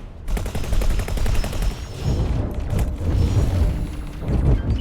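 Turret and ship weapons fire in the space game X4 Foundations, a dense, loud, rapid stream of repeating shots and booming blasts that runs without a break from start to finish.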